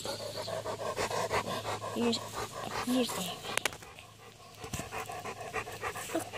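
Small dog panting in rapid, rhythmic breaths at a medieval hobbyist camp event beside a tent, close by, while a person talks over it.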